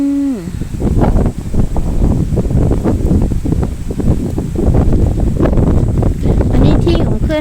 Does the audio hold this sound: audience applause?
no